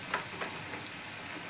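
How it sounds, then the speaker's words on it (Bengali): Potato frying gently in oil on a low gas flame, a soft, steady sizzle with a few faint crackles and pops over a second and a half, no talking. "এই দেখুন বন্ধুরা, আমি হালকা গ্যাসে এটা ভাজছি,"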